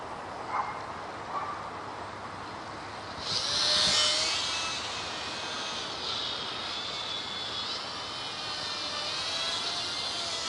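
A small WLToys Cessna-182 F949 three-channel RC plane flies over a front yard, its electric motor making a thin, high whine that swells as it passes overhead, then fades and steadies in the open air.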